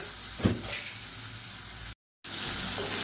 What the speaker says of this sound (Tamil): உருளைக்கிழங்கு சேர்த்துட்டு ஒரு 2 நிமிஷம் நல்லா சுருண்டு வர அளவுக்கு வறுத்துக்கலாம்